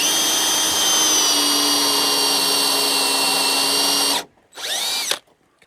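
A power drill spins a plug cutter into cedar decking board, a loud steady whine with a grinding cut lasting about four seconds, then a brief pause and a short second burst before stopping.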